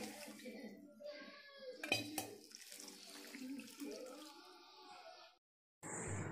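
Cooked chickpea water, about two cups, is poured into a black chana gravy in a home kitchen, a soft watery splashing with light clinks of pots, faint and mixed with a voice talking nearby.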